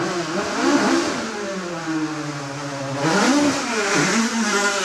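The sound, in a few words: Ford Escort racing up hillclimb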